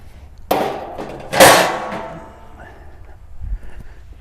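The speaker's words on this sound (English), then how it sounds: "I'm going to go ahead and put this shield on there" A metal shield set onto a WARMBOND BondStove smokeless wood-burning fire pit outdoors, giving two close metallic clanks and thuds with a brief ringing tail, followed by a softer low bump.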